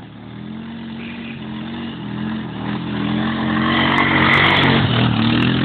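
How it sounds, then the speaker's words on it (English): Polaris Sportsman 500 ATV climbing a huge rocky hill, its engine droning under load and gradually rising in pitch and loudness as it labours upward, close by with no talking. "huge Rocky Hill Polaris Sportsman 500 is gonna attempt to climb it."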